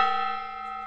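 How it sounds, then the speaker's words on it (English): A struck gong rings out in a workshop, its steady metallic tone holding many bright, sustained overtones that fade slowly across the short clip without any talk. "I am going to hit that gong in a second"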